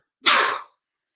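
A single loud, close sneeze from one person during a live talk stream, a sharp burst that fades within half a second and leaves silence.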